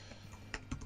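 Quiet, quick keystrokes on a computer keyboard as a file name is typed, a few soft clicks with a couple of sharper taps, alone without talk.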